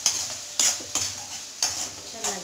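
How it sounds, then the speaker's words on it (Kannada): Brinjal pieces frying in a pan with salt and turmeric, stirred by a spoon in several short scraping strokes over a soft steady sizzle. "ಸಾಲ್ಟ್ ಮತ್ತು ಅರಿಶಿನ ಹಾಕಬೇಕು, ಹಾಕ್ಬಿಟ್ಟು 1 ನಿಮಿಷ ಫ್ರೈ ಮಾಡ್ಕೊಳ್ಳೋಣ."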